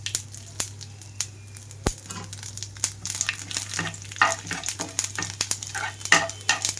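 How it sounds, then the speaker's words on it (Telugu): Tempering seeds fry in hot oil for ajwain rice, giving a close, continuous sizzle broken by frequent sharp pops and crackles as the seeds burst, with occasional stirring scrapes. "ఇవన్నీ వేగాక తాలింపు గింజలు మొత్తం వేసి వేయించుకుంటున్నాను"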